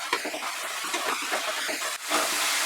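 Masala spices for an egg curry are stir-fried on high flame, giving a continuous close hiss with scraping stir strokes and a brief dip before the sizzle surges again.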